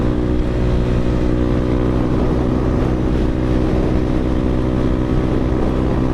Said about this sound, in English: That was the first time going on the highway on this bike.